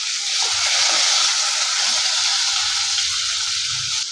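Garlic, ginger, tamarind and dried chillies sautéing in a pan for chutney, giving a loud continuous sizzle and hiss that stays steady from start to finish with no talk over it.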